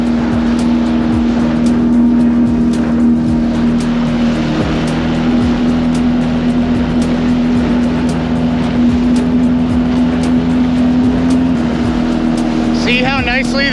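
The outboard motor of a FishSkiff 16 inflatable boat drones steadily and loudly across a shipping channel, with wind and hull rush throughout and a brief higher whine near the end.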